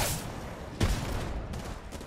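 Gunfire in a video game, a short burst arriving from behind, with one sharp louder shot standing out amid a steady background of game noise.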